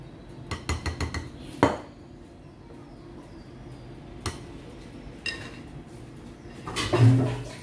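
A utensil slowly stirs banana cake batter in a bowl, giving soft scraping with several light clinks of metal against the bowl, near and moderately loud.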